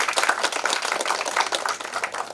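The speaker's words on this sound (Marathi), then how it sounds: "एकदा त्यांच्याकरता पण जोरदार टाळ्या झाल्या पाहिजे" Loud, sustained applause from an audience at an International Women's Day celebration, given in honour of Meeratai. Dense clapping fills the whole stretch at a steady level, with no voices over it.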